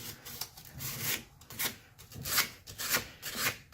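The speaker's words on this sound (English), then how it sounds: "I'm going to take a piece of sandpaper." Sandpaper rubbed over the edges of a trolling motor propeller, a dry rasping scrape repeated in short strokes of about half a second, close and fairly quiet.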